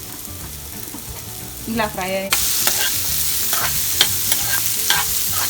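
A tempering of spices for flattened rice upma fries in a pan, a loud sizzle suddenly swelling after a moment of stirring, with scattered clicks of a spoon against the pan and a brief spoken word.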